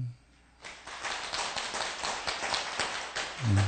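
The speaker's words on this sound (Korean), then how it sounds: "우리 운여님께 감사의 박수 한번 할까요?" A gathering at a Buddhist dharma service applauds in thanks, a few seconds of brisk, moderately loud clapping that starts after a short pause and fades as a voice returns.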